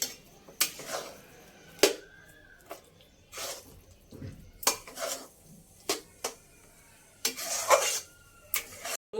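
Ghee worked into ground chana dal paste in a pan over a low flame for halwa, with clinking spoon scrapes and knocks against the pan arriving in irregular bursts, close and moderately loud, with no talking.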